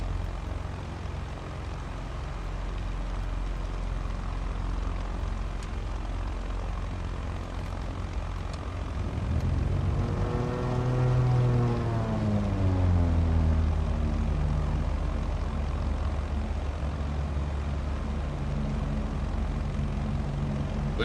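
Propeller aircraft engine in Flight Simulator 2024 cranking and catching, a low steady hum rising around the midpoint into a sweeping, climbing drone that then settles into a steady idle.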